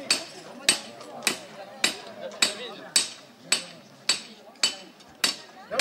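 A blacksmith at a Corsican cutlers' forge workshop hammers a heated knife blade, drawing it to section: about eleven sharp, ringing metal strikes, evenly spaced roughly half a second apart, close and loud, each decaying quickly before the next.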